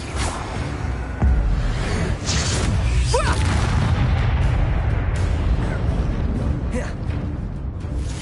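A Bombarda blasting spell goes off in Hogwarts Legacy, a loud booming blast set within a dense, continuous wash of combat noise, with a faint voice briefly present.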